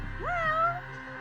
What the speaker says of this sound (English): Got the cat.